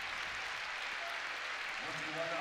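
Crowd applauding in a basketball arena at a Michigan Wolverines versus Nebraska Cornhuskers men's game, a broad steady wash of clapping filling the space while a commentator talks over it.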